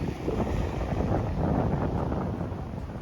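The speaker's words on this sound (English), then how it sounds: "Feels like the wind is starting to pick up a little bit." Wind blowing at Patong Beach in Phuket, a steady low rumbling buffet against the microphone with a faint wash of surf underneath, sustained throughout without speech.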